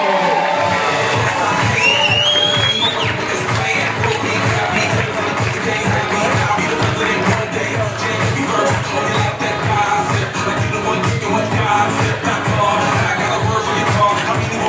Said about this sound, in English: a big round of applause for Taylor Gruba